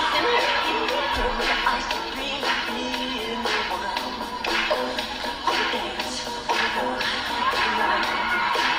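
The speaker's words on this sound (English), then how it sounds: "Everybody's clapping." Audience at a 1983 live performance claps and cheers steadily, a dense, continuous crowd roar with applause throughout, fairly loud and without clear talk.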